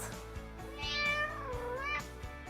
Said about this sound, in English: or a cat.